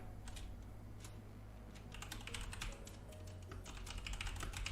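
Quiet, rapid clicking of fingers typing on a computer keyboard comes in irregular bursts of keystrokes over a low steady background hum, faint and close, with no talking.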